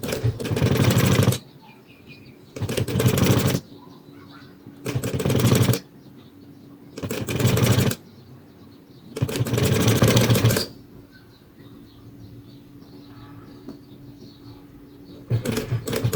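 A sewing machine stitching fabric in repeated bursts of rapid, whirring needle motion, each lasting one to two seconds with pauses between, close and steady.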